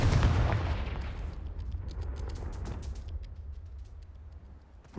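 A Confringo blasting spell in Hogwarts Legacy, one deep booming blast that rolls off into a long rumbling decay with scattered crackles, alone and fairly loud.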